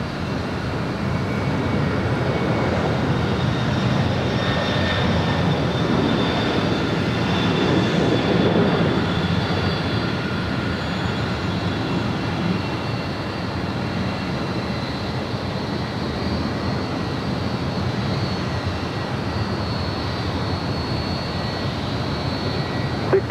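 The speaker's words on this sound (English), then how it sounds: "That was FedEx Flight 1835 departing to Oakland. It's a 767-300 freighter." A FedEx Boeing 767-300 freighter departs LAX, its jet engines a continuous broad roar that swells slightly and then holds steady for over twenty seconds at moderate distance.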